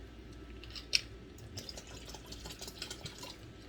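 Vinegar poured into a Rit dye bath for dyeing a beige sweater blue makes a faint, soft trickle with small splashes and one sharp clink early on.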